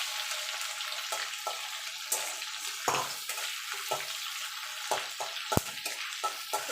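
Garlic, slit green chillies and black cumin seeds fry in hot oil, a steady loud sizzle and crackle with sharp stirring scrapes and taps scattered throughout, no voices.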